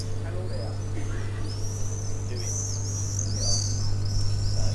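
Wild birds calling over a marsh, thin whistled chirps and short trills scattered at a moderate distance above a steady low hum, with faint voices beneath.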